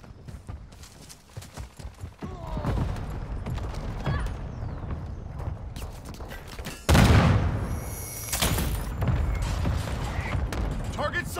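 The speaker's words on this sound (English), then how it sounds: "Hostile war strike near your position." Hostile airstrike explosions in Modern Warfare multiplayer, with scattered gunfire followed by a loud sudden blast and rumbling impacts, mixed with in-game voice callouts.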